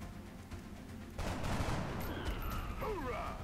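Gunfire from a soldier's shot at an alien in the XCOM Long War tactical game: a sharp burst of shots erupts after a quiet stretch, followed by a rolling, echoing tail and a falling whine, fairly loud and without talk.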